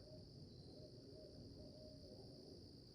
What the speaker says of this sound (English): here's my owl calls